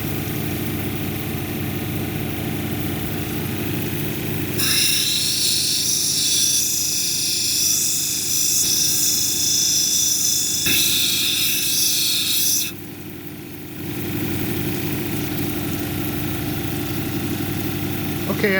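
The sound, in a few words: lapidary grinding wheel shaping agate on 220 grit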